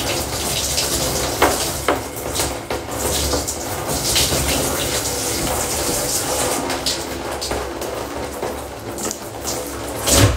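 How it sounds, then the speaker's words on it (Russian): Cool water from a tap running over hair being rinsed, a continuous splashing hiss with uneven bursts and spatters as the stream hits the hair, close and fairly loud, with no talk over it. "Так, вот у меня прохладная вода."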